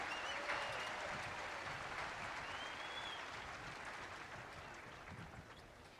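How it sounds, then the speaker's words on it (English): Audience applause at a West Point military academy graduation ceremony, a broad, sustained wash of crowd clapping heard from a distance, fairly faint and steady with a slight fade toward the end. "how about a round of applause for the class of 1975"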